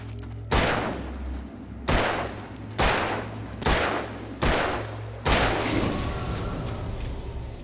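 Gunfire in Alan Wake, six loud booming shots spaced about a second apart, each with a sharp onset and a short decaying tail, the last one trailing into a longer rumble.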